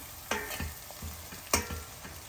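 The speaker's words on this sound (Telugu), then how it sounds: "ఇప్పుడు మనము కరివేపాకు వేసేసుకుందాం కరివేపాకు కొద్దిగా ఇలా తిప్పుకొని పసుపు కూడా వేస్తాం" Curry leaves and turmeric sizzle in hot oil for a mango curry, a soft crackle broken by a few sharp scraping strokes of stirring.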